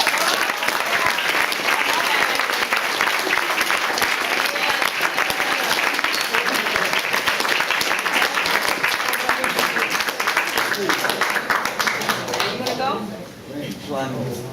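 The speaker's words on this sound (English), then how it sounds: "Let's clap back." Loud sustained applause and crowd noise at a labor and Black Lives Matter forum, dense and steady for most of its length, then thinning out as voices emerge near the end.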